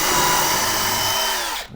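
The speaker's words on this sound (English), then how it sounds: "the setting 2 is for drilling, which is much faster" A power drill spins at high speed boring a hole while fixing loose door hinges, a loud steady whine held for nearly two seconds before it winds down and cuts off at the end.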